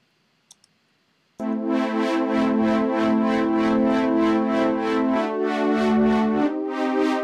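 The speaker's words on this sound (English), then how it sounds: "That evolving sound is what I'm going for." After a couple of faint clicks, a sustained synth pad swells in, rich and harmonic, with a slowly shifting, pulsing timbre shaped by an MSEG modulator that evolves over several seconds.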